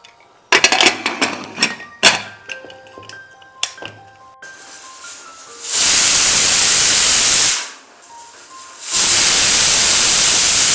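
A few metallic clanks and clatters of kitchen utensils give way to a pressure cooker releasing steam in two loud, sustained hissing bursts, separated by a short pause.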